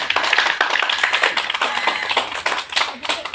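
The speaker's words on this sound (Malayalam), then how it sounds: "എല്ലാവരും ഹയാക്ക് ഒരു കൈയടി കൊടുത്തേ" Audience at a madrasa's final teaching day clapping for a young girl student, a steady burst of many hands applauding together at close range for a few seconds.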